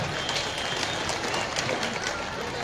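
Crowd clapping at a political rally at Konar Dam in Jharkhand, a steady, continuous patter of many hands that stays even and fairly loud throughout, with no speech over it.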